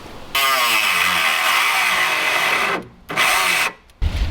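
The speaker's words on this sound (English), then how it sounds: "he has this little piece right here we just need to cut off because it was rubbing the tire" A power cutting tool grinds through a small piece of car body that was rubbing the tire on a V8-swapped BMW E36, a loud continuous whine in a garage with two short pauses near the end.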